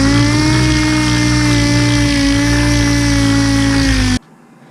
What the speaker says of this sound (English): I'm going to sand it down real quick